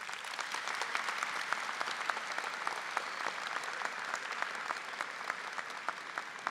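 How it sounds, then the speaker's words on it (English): An audience at a high school graduation ceremony breaks into sustained applause, a dense, even wash of many clapping hands filling the hall throughout. "Would you give them a round of applause?"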